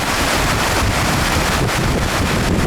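Strong wind at Party Lake in Algonquin buffets the microphone in a loud, continuous roar of rumbling gusts with no break.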